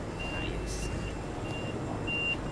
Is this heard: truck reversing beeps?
yes